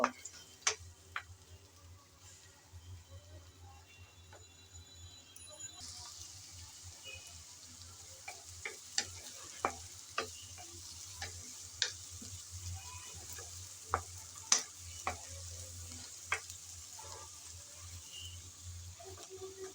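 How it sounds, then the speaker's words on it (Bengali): Chopped garlic and onion stir-fry in a pan with a faint, quiet sizzle, punctuated by a steady series of light ticking spatula taps that grow a bit more regular later on. "রসুন আর পেঁয়াজ কুচি দিয়ে নেড়ে চেড়ে ব্রাউন কালার করে ভেজে নেব"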